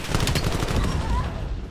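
Grenade explosions in a competitive multiplayer video game match burst in a rapid, loud cluster of booming blasts that crowd together, then fade into a rumbling tail.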